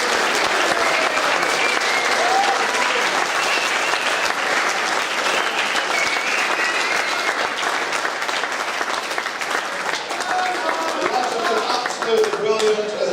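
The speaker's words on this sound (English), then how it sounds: "I think we ought to give another big round of applause to the players and the squad" A hall audience at a football club's first-team presentation evening gives a long, loud round of applause for the players and squad, dense clapping sustained throughout with some voices mixed in.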